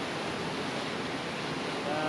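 A winter waterfall in Dalarna, Sweden, rushing beside a rock wall and a tree, gives a steady, dense roar of falling water that holds even and unbroken throughout, with no voices over it.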